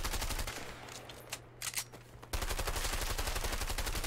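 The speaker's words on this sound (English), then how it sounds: "we take machine guns and start firing a wooden house" Machine guns in the video game A Way Out fire rapid, continuous bursts at a wooden house, pause briefly with scattered impacts and debris, then resume sustained loud fire.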